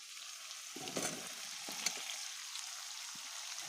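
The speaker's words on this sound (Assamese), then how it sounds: "এতিয়া মই ইয়াত কোমোৰাটো ঢালি দিম।" Pumpkin pieces tipped into a hot pan with meat fry with a steady, close sizzling hiss, broken by a few louder bursts of spitting and stirring, with no voices.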